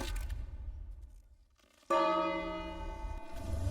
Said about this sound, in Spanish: ¿Y si toco la campana sin que haya comida, qué?